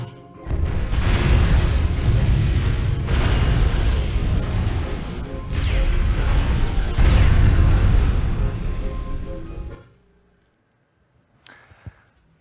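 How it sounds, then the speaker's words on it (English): Loud, sustained roaring blast from a self-destruct sequence in the Ratchet and Clank video game, rumbling for about nine seconds before cutting to near silence with a faint clatter at the end. "This place is about to explode."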